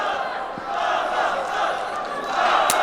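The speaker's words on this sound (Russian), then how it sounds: "И слышим, как болельщики поддерживают Сырыма." Fans roar and chant in support of the fighter Syrym at a combat bout, a loud, sustained crowd din that surges near the end, with a few sharp impacts cutting through.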